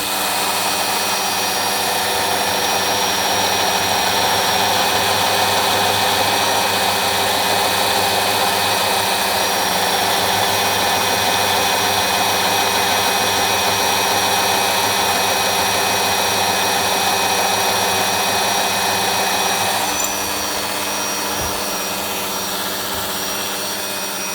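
A Soviet Komunaras PS-2a drill stand runs steadily for the whole stretch, a loud, constant motor whine and drone with no pauses and no speech.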